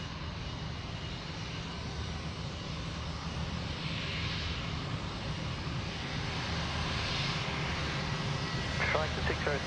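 An airplane's engines roar steadily through a banking turn at Sydney Airport at night, a loud continuous rumble with a brief chirping burst near the end.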